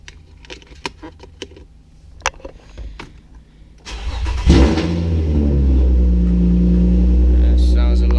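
An Infiniti G35 with a 370-amp alternator cranks briefly and fires up, settling into a steady, close idle after some light handling noises.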